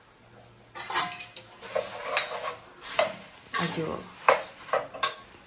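A big spoon scrapes and clatters against a pan while stirring puffed rice over low gas in a home kitchen, a series of uneven metallic knocks and scrapes, close and fairly loud, with a brief spoken word.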